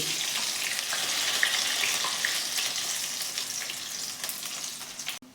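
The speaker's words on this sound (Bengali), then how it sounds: "এবার আস্তে করে এগুলোকে উল্টাবেন আর সোনালি করে ভাজবেন" Medu vada deep-frying in hot oil until golden, a dense, even close sizzle and bubbling that holds steady before cutting off abruptly near the end, with no talking.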